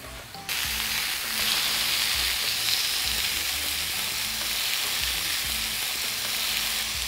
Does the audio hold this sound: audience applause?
no